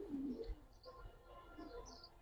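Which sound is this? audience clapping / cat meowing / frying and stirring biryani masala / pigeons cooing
pigeons cooing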